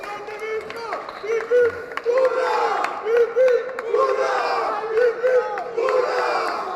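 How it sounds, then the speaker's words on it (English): A crowd cheering and applauding at a Yu-Gi-Oh! championship final, with loud whoops and shouts rising in bursts over steady clapping. "your fans maybe give another round of applause"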